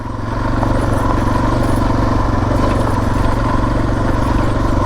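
A dual-sport motorcycle rides steadily on a road near town, its engine droning loud and close with a constant mid-pitched hum and light mechanical clatter throughout.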